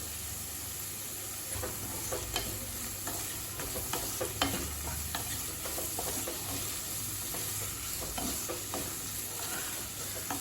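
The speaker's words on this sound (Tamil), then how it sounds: "நல்லா ஹை ஃப்ளேம்லேயே வச்சு 2 நிமிஷம் வரைக்கும் நல்லா வதக்கிக்கோங்க" Beans, capsicum and cabbage with salt sautéing on high flame for potato rice, with a soft continuous sizzle and intermittent scraping stirs, fairly quiet and close with no speech.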